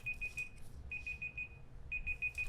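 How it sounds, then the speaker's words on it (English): A quiet electronic laptop alarm beeping in quick bursts of four or five tones, repeating three times with short pauses between. "There's some alarm going off."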